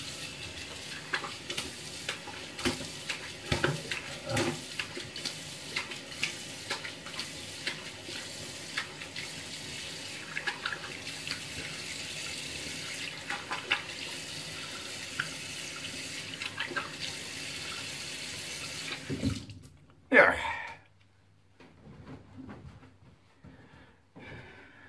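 Tap water runs steadily into a sink while someone rinses off after shaving with a five-blade razor, a continuous splashing wash that stops abruptly near the end, followed by a few faint handling sounds.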